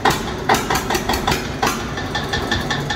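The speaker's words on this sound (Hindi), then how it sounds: "बड़ी वाल पर स्टार्ट हुआ ट्रैक्टर मतलब वाल उठाई नहीं ट्रैक्टर की और आवाज़ शुरू हुआ" A tractor engine idles after starting at a tractor market in Shamli, its rough, loud chugging broken by regular knocking pulses about twice a second, heard close up with no voices.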